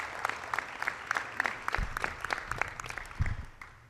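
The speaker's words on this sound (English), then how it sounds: "can we get a round of applause for everyone for their support making this event happen?" Audience at a community shoe and sock drive event gives a short round of applause, moderate and steady clapping with a few thumps, fading out toward the end.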